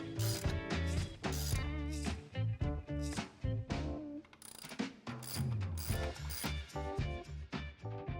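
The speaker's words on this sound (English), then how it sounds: "Then we can start tightening all of the M8 hardware down," Ratchet wrench tightening M8 bolts on a Tusk skid plate fitted to a CFMoto IBEX 450 motorcycle, a busy, loud run of close clicking pawl bursts with brief pauses between strokes.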